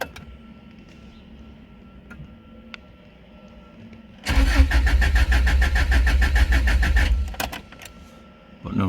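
A 1995 JDM Subaru WRX cranks over without catching, a loud steady churning of the starter lasting about three seconds after a quiet stretch of faint clicks, then stopping abruptly.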